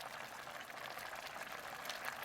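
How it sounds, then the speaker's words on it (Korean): Squid entrails soup with radish greens and vegetables bubbles in a pot, a soft, continuous simmering hiss heard close and alone. "채소를 넣은 오징어 내장탕이 보글보글 끓는다."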